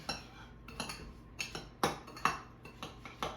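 A spoon stirs and clinks against a bowl while half and half is worked into a meatloaf mixture, light irregular taps and scrapes, close and fairly quiet with no talking.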